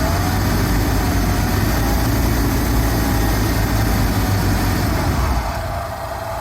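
A Rolls Royce Silver Shadow engine idles after carburettor tuning, a loud, close, even rumble that runs steadily and eases slightly near the end.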